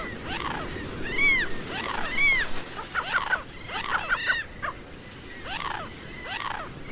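Gray gulls on the Atacama Desert shore giving repeated harsh, rising-and-falling calls, several birds overlapping in an irregular sequence at moderate distance.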